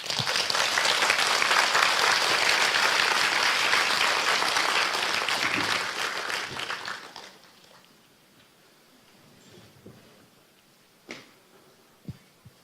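An audience claps at a book launch celebrating a Korean dictionary, a dense, loud burst of applause that fades out after about seven seconds, leaving a quiet room with a few scattered claps.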